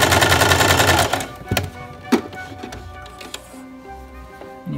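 A sewing machine runs a zigzag stitch across spare baby-sleeper fabric in a dense, fast mechanical chatter for just over a second, then stops, leaving scattered light clicks and handling knocks.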